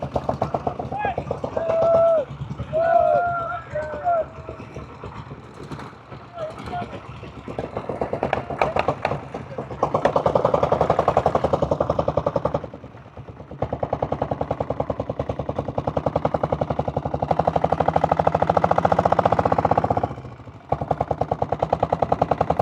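Diesel Royal Enfield Bullet motorcycle with a 6.5 HP diesel engine running steadily: a close, loud, rapid thumping that continues throughout, with a voice talking over it early on.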